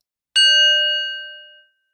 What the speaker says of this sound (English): We'll begin with a bell.